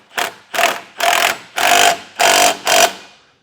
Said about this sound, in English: Now we're going to take a 19mm socket and we're going to snug up that bottom bolt first.